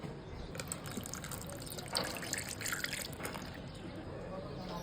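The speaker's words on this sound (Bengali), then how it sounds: "এবার এখানে দিয়ে দিব লিকুইড যে দুধটা একদম গাঢ় করে নিছি ওইটা" Thickened liquid milk is poured in while making homemade mango ice cream, a soft continuous trickling and splashing held at a steady level, with a slightly louder gush partway through.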